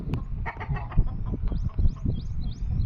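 Roosters in a poultry yard give low clucks and scattered calls, with thin chirps from other birds higher up, all fairly close amid shuffling yard noise and no talk.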